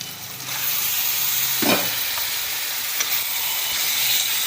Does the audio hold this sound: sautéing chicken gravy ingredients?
yes